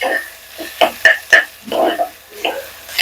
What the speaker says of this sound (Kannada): ಈ ಒಂದು ಈರುಳ್ಳಿ ಒಂದು ಬ್ರೌನ್ ಕಲರ್ ಫ್ರೈ ಆಗ್ತಿದಂಗೆನೆ